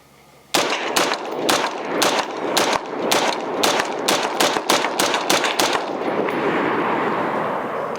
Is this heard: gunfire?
yes